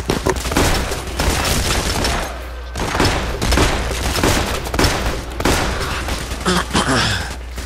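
In the PAYDAY The Heist video game, loud bursts of automatic gunfire and single shots repeat almost continuously from several directions, with rapid cracks and booms following close together.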